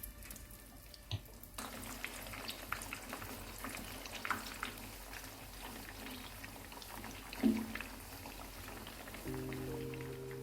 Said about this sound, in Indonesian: Kemudian kita goreng sampai dia kuning kemasan, sampai bagian luarnya itu crispy.